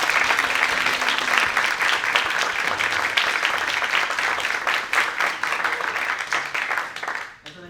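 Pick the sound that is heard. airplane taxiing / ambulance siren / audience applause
audience applause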